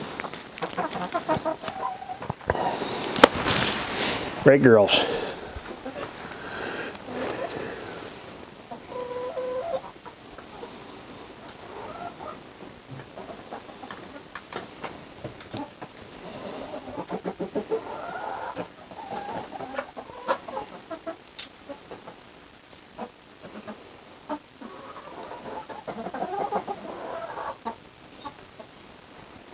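Hens clucking inside an enclosed backyard chicken coop, steady and close, with a louder flurry of clucks early on and a brief spoken line partway through.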